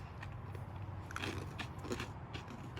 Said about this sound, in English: This is crunchy. It's another crouton.